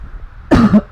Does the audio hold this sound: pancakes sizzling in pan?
no